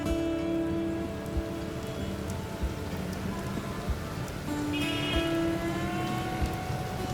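Steady rain patters on a surface, with scattered louder drops and a faint tonal hum running underneath.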